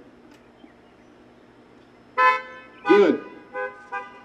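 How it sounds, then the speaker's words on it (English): Car horns honk outdoors in a few short blasts: one toot, a louder longer honk, then two brief beeps, moderately distant over a quiet background, with a voice speaking briefly. "You go ahead and honk the horn when you're there."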